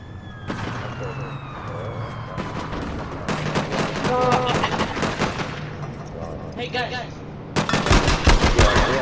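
Gunfire rattles in a police roleplay video game set during a hostage situation, with bursts of rapid shots, a wailing siren and people talking over the action.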